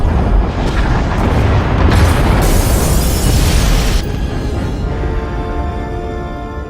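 Explosions destroying escape pod bays in Star Wars: Knights of the Old Republic-era game KOTFE form a loud, continuous rumbling blast with layered booms that fades into a lower roar after a few seconds.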